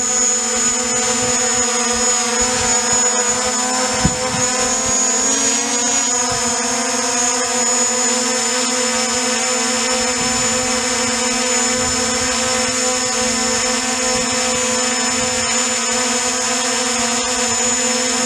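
A DJI Mavic Pro drone fitted with a dual-battery mod hovers nearby, giving a steady high-pitched propeller whine with strong tonal hum that holds constant throughout, loud and unbroken.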